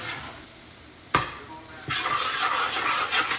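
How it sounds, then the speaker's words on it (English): Vegetables for a bayou shrimp stew go into a pot over a medium flame, a sharp clatter followed by a loud, steady sizzle and stirring close by, with no voices. "we're gonna saute all this together"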